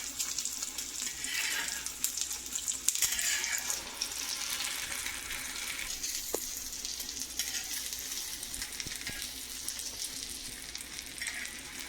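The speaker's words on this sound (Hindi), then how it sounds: "इसमें आप गरम गरम ऑयल डालते रहें ताकि ये ऊपर से भी पक जाए" An omelet fries in hot oil in a pan, giving a steady, close sizzle that keeps going with no pauses, while a few faint clinks of utensils rise over the crackle.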